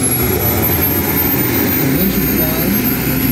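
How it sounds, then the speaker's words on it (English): Jet airplanes flying in formation and trailing smoke at an air show, a loud continuous engine roar that holds steady throughout with a high whine above it. "formation flying and smoke for two beautiful steel airplanes"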